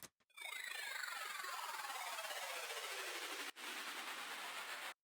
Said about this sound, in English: You have a nice little downlifter and white noise.